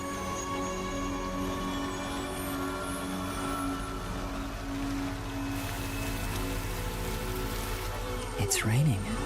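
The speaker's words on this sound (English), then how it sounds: "It's raining." Steady rain pours in the video game Master Detective Archives: Raincode, a constant dense hiss with low rumble and tonal game music underneath, and a brief swooping sound effect near the end.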